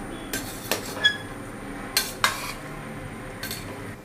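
A metal spoon stirs cooked tomato rice in a pressure cooker, several distinct clinks and scrapes against the pot spaced irregularly over a quiet background.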